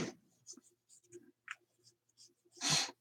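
Pencil scratches across paper in short strokes for rough drawing and shading, with quiet separate scrapes followed by one longer, louder stroke near the end.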